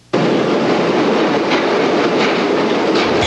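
A New York City subway train runs on the rails, a loud steady roar of wheels and carriage noise starting abruptly and holding constant, with faint clicking rhythm and no speech.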